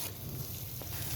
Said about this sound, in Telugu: కొంచెం వేగేలాగా వదిలేయాలి